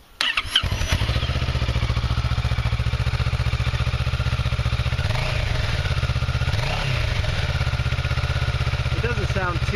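A motorcycle on its stock exhaust starts up with a brief crank, then runs loud and close at a steady, throbbing idle with a couple of short blips of the throttle.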